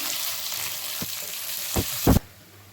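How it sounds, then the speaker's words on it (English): Onions frying in hot oil with golden brown garlic and spluttering mustard seeds, a steady close sizzle broken by a few louder stirring scrapes and bursts near the end. "and the garlic has gone golden brown. Now we'll put the onions. Mix it nicely."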